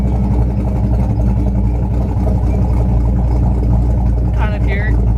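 A car engine fitted with an aftermarket cam idles and runs with a steady, loud, low rumbling throb throughout, its choppy pulse continuous under the mechanical drone, while faint voices mix in near the end.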